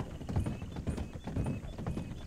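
Horse hooves in Red Dead, a clear rhythmic clip-clop of a horse walking at a steady pace, close and moderately loud.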